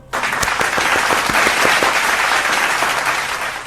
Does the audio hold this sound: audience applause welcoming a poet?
yes